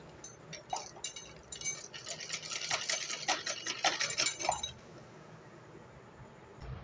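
A sewing machine stitching the hem seam on fabric for a shalwar kameez, with a quick run of rattling needle clicks that builds, then stops, leaving quiet room noise.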